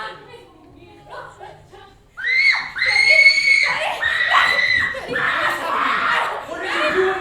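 A woman screams on stage during a live theatre performance of The Crucible, with loud, sustained shrieking cries after quieter vocal sounds and room noise at the start.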